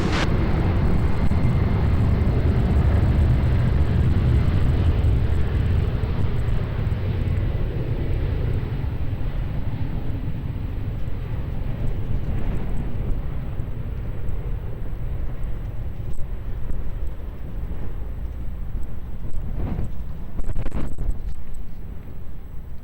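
A jet airliner takes off from runway 20 at Lisbon Airport, a steady loud broadband engine roar that holds strong, then thins and eases as the aircraft climbs away, with a few faint clicks near the end and no talk.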